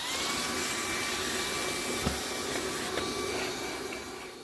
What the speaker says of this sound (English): I'm going to quickly hoover up all the dead stuff